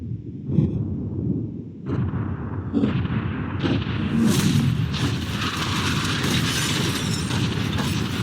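A yacht is blown up in a sequence of loud booming blasts, followed by a sustained rumbling roar and crackling debris that stays heavy to the end, with no speech.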